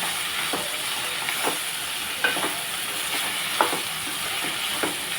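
Ivy gourd curry sizzles steadily in a hot pan, with soft scraping stirs and clinks recurring every second or so over the continuous frying hiss.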